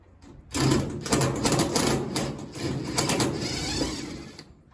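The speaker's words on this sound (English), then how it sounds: "So I got a Phillips attachment right here" Cordless drill with a Phillips bit spinning out screws from the faceplate of an older Whirlpool heavy-duty appliance, a steady whirring buzz that starts abruptly and runs continuously and fairly loud, with no talking.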